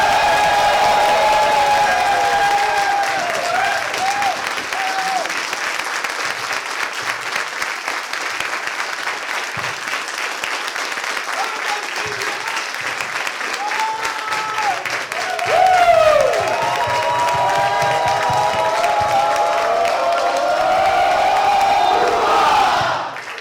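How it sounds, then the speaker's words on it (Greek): A crowd gives warm, sustained applause with cheers and whoops, welcoming the CEO of Zinzino onto the stage at a corporate event. The clapping is loud and dense throughout and swells briefly near the middle. "ένα θερμό χειροκρότημα να καλωσορίσουμε τον CEO της Zinzino, Mr. Doug."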